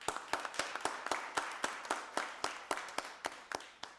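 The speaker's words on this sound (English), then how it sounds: "Give the commissioner a round of applause" A round of applause at a county board of commissioners meeting for a commissioner, a small group clapping in sharp, distinct, fairly rhythmic hand claps that repeat steadily and close by, with no speech.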